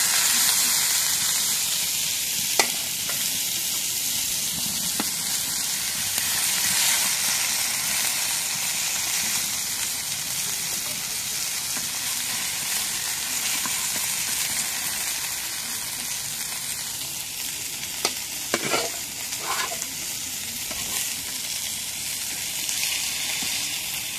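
Fish (kushsha from the Dharla river) frying in oil in a pan, a steady loud sizzle and hiss throughout with a few brief clinks, a faint voice now and then.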